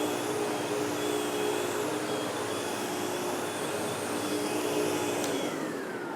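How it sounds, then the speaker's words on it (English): A vacuum cleaner runs over carpet with a steady, loud, unbroken motor whine and airy rush, close by and continuous throughout. "So I vacuumed one half of the room."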